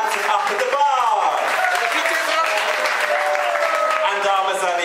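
Applause from an audience at a party or show for the bar staff, steady clapping under a voice and cheering that stays at an even level throughout.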